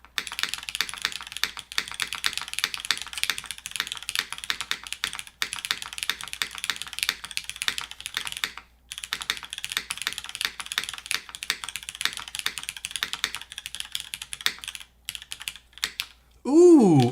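Close, steady typing on a Sensy Seal80 custom mechanical keyboard, with rapid clacking keystrokes and occasional deeper spacebar presses, briefly pausing before a short tonal sound at the end.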